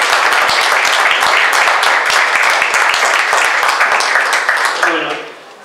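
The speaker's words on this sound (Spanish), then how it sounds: "El aplauso para Osvaldo, que hizo un gran trabajo." Loud audience applause for Osvaldo, a painter honored at an awards ceremony, a dense close burst of many hands clapping that carries strongly before fading quickly at the end.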